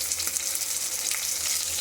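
Fish pieces and a fish head spit and sizzle in hot oil, a dense, even crackle close up with no voices.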